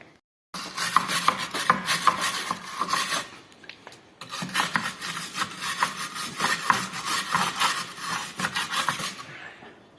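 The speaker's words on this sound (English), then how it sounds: "we're just going to clean up the threads with a wire brush and some WD-40" A wire brush scrubs rust and grime from bolt threads during a rear wheel bearing job on a Volvo V50, Ford Focus or Mazda 3. It makes a steady, close, rasping scratch, then pauses briefly and resumes for several more seconds.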